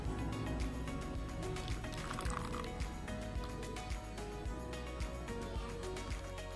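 A blended stale-bread mixture is poured into a pot of water on the stove, giving a continuous liquid gurgle and splashing with small drips, close and fairly steady throughout.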